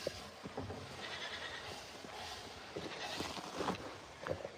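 Goats on a small farm bleat faintly, with several short calls scattered over a steady outdoor background.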